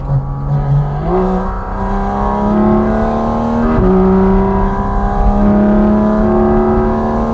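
A Porsche Cayman GT4 RS engine pulls hard on the Oberalp Pass in the Swiss Alps, its loud droning pitch climbing steadily, dipping at two quick upshifts, then rising again in the cabin.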